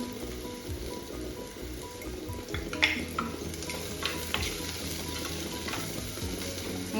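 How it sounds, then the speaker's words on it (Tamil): Onions and garlic fry in a pan for egg curry, a faint, dense crackling sizzle like light rain, with a few soft spoon clicks and scrapes and no voices. "பார்த்தீங்களா இப்போ வெங்காயம் ஓரளவு வதங்கிட்டுது"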